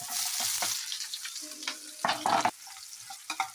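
Mustard seeds, cumin and finely chopped onions frying in oil in a kadai, making a hissing sizzle with bursts of stirring and scraping, close and moderate in level.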